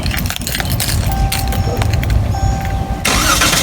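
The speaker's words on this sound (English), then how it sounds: "And it cranks up just like that." A car engine cranks and catches after a remote start from the key fob, a loud close churn of the starter with a tonal whine that settles into a running engine.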